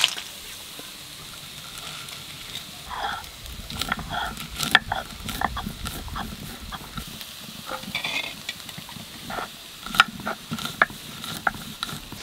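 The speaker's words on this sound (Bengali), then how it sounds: "পেঁয়াজ আর রসুন ভাজা হতে হতে আমি বাদামের ভর্তাটা বাটি নেই।" Peanuts being ground by hand for a Bangladeshi peanut bharta, an irregular scraping and grinding with scattered clicks, close and moderately loud, while onions and garlic fry in the background.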